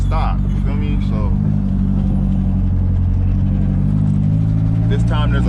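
Heavy low engine rumble rolls on without a break as cars stream past on the road, steady and loud from nearby, while someone talks over it.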